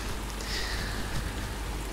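Rain falling in the survival game Survisland, a brief, even wash of hissing noise that stays constant and unbroken, with no voices.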